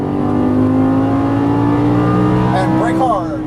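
A Lamborghini Gallardo LP550 accelerates hard under throttle on a track, its loud, close engine note climbing steadily in pitch, with a brief squeal near the end.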